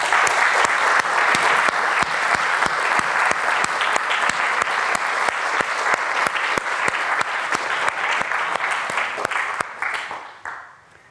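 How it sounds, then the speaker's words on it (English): A conference audience gives a warm, sustained round of applause for the organizers and staff, dense steady clapping from many hands that fades out near the end. "join me in a warm round of applause for all the organizers and all the staff here who made this event possible."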